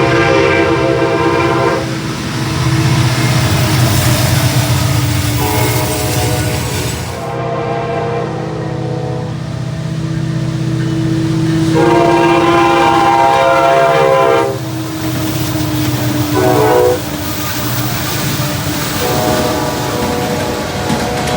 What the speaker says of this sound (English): a Norfolk Southern mixed freight with 2 reactivated SD70M-2s was first.